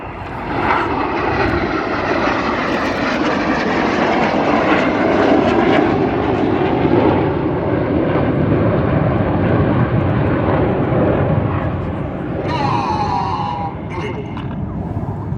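Red Arrows RAF jets flying rollbacks at the Gdynia Aerobaltic air show give a loud, sustained engine roar that swells and slowly fades. An announcer talks over it throughout.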